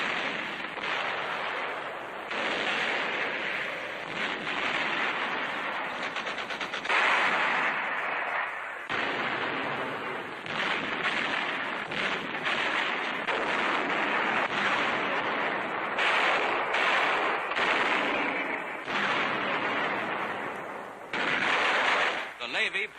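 Artillery and small-arms gunfire on Iwo Jima during WWII, with naval guns supporting Marines ashore, heard as dense, continuous rumbling blasts and crackling shots, with a narrator speaking over the combat noise.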